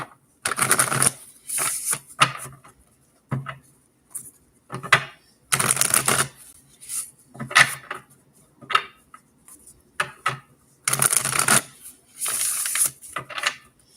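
Bursts of crisp riffling and slapping as a deck of tarot cards is shuffled repeatedly, in short irregular rounds separated by brief pauses, close and clear.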